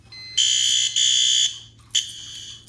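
A newly installed fire alarm system sounds during a test, loud close horn-like bursts of a harsh high tone, two long blasts then a shorter one, separated by brief gaps.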